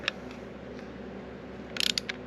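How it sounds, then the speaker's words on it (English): Ratchet snugging down scope mount screws, a faint tick at the start followed later by a quick burst of four or five sharp clicks close by over quiet room tone, with no talking. "we're going to just go and torque these down a little bit with the ratchet"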